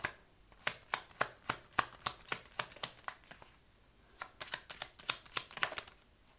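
A deck of Lenormand cards being shuffled and cut, a rapid run of sharp, evenly spaced riffling snaps, pausing briefly before a second quicker burst, close and clear without talk.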